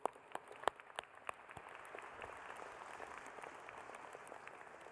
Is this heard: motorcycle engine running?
no